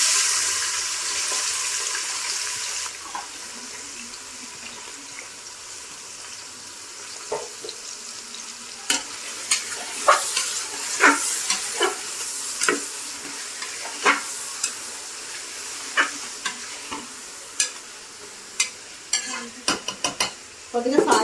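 Onions fry in hot oil with turmeric, a soft sizzle with sharp clicks and scrapes of stirring that grow more frequent and louder toward the end, no voices.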